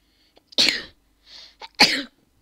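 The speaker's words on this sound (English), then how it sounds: "I just sneezed all over my mic." A person sneezes right into a microphone, two sharp explosive bursts close-up with a small sniff between them, loud and dry against silence.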